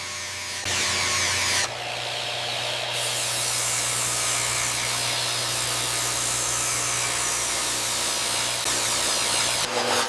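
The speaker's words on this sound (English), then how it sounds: "Sanders create a smooth, furniture-grade finish." Power sanders smooth trimmed 4x8 wood sheets to a furniture-grade finish in a huge sawmill, a loud steady mechanical whir and grinding that shifts in pitch as the machine engages, with no voices.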